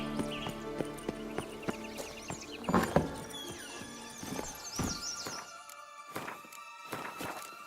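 A horse's hooves clip-clop in a steady walking rhythm in The Witcher 3, with a few heavier thuds, a brief whinny-like squeal and jingling tack, fairly close and clear.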